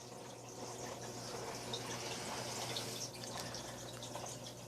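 A Marineland 200 filter runs on the front of a new 75-gallon aquarium, giving a faint, steady trickle and splash of flowing water with no talking.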